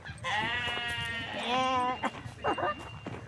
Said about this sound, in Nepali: अरे भेडा कराएको भेडा